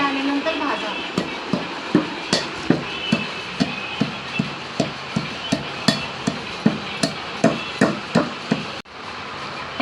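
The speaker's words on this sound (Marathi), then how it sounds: "हे हळकुंड आहे 10 ग्राम, त्याला पहिले चांगलं फुटून घ्या आणि नंतर भाजा।" Dried turmeric root is pounded to crush it, a rapid run of sharp, close, evenly spaced thuds repeating for several seconds before a final bump.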